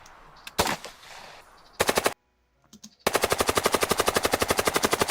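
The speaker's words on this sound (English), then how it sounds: "or you can also bring some gun sounds" Automatic gunfire effects: a couple of short bursts and a brief silence, then a long, rapid, evenly spaced machine-gun volley, loud and close.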